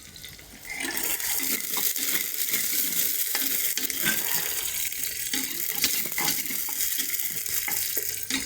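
Chopped shallots fry in a pan and are stirred, producing a loud, steady hiss of sizzling oil with soft scraping beneath it after a quieter opening moment.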